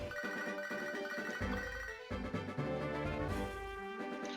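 Phone ringing in Pokémon HeartGold, a repeating electronic ring tone over looping game music, steady and moderately quiet.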